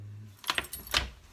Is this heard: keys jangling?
yes